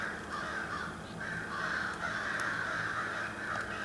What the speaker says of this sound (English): So the crows are driving us crazy.